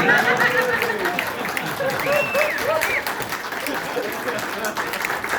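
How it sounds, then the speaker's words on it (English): An audience claps at a Tulsi Gabbard campaign event in Fairfax, Virginia, a sustained ripple of applause from a moderate crowd, with a chuckle and voices breaking through on top. "you can clap for that"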